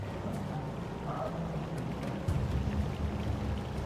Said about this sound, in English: Hear a lot of water.